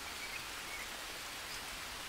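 Rain falls steadily in the Green Hell video game, an even, dense hiss of drops on foliage and ground with no talking.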